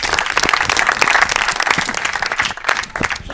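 Audience applauding, a dense, steady wash of many hands clapping at close to mid distance, with faint voices mixed in.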